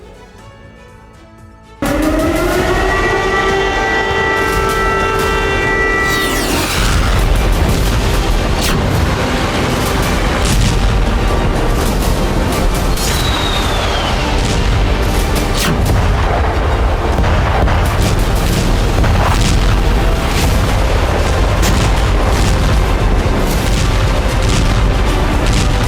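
Heavy blasts and booming explosions from attacks in the Ukraine war, a sustained loud roar of rumbling detonations and crackling impacts following a quiet opening, with a high whistling tone rising early on.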